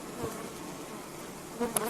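A dense, steady hum of many honeybees buzzing close by around a hive, with no voices.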